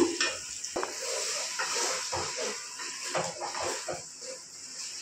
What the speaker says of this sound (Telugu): ఇప్పుడు నేను ఇక్కడ టమాటోలు వేసేస్తున్నాను